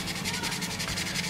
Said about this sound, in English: I use a sanding sponge by Tamiya 600 and start to sand it